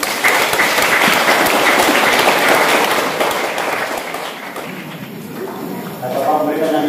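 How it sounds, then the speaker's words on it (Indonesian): Church congregation at Sunday Easter Mass applauds board members, dense continuous clapping at close range that gradually thins toward the end, with some voices mixed in. "tepuk tangan anggota board"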